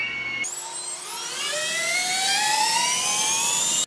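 Quadcopter motors clamped to a bench and throttled to full power, on a JHEMCU GHF420AIO flight controller, spool up into a loud, close, harmonic whine that climbs steadily in pitch and holds at full speed, with no voices.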